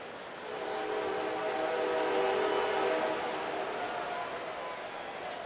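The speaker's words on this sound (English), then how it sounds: "Hear the train? Do hear the train. It's coming around the bend." A train horn or whistle sounds steadily from a distance as a train passes, a sustained tonal blast over broad rumbling noise lasting several seconds, heard in the background of a baseball broadcast at a Chicago Cubs at Colorado Rockies game.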